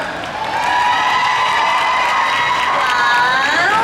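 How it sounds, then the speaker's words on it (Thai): A studio audience claps and cheers at a Smooth E skincare launch event in Thailand, a dense, steady burst of applause with whoops that holds for several seconds. "ขอสิบปรบมือหน่อยครับ"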